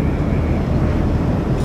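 Steady low drone of a plane's engines heard from inside the cabin in the Splinter Cell Blacklist video game, a continuous even rumble that holds alone without change.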